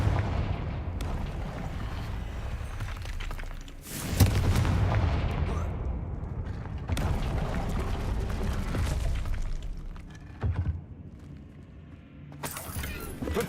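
The Confringo explosion spell in the video game Hogwarts Legacy bursts with loud booming blasts and rumbling impacts, layered over continuous game effects and background noise.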